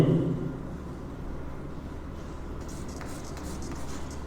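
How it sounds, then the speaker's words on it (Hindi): Chalk or pen writing on a board during a Class 10 probability maths lesson, heard as a soft continuous scratching over steady room noise, with no talk. "तो मैं लिखता हूँ"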